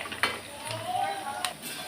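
Sothu vathal, dried rice crisps, stirred in hot oil in a pan, giving a few light clinks and scrapes with a soft sizzle beneath, close and moderately quiet.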